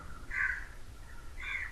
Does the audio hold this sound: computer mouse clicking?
no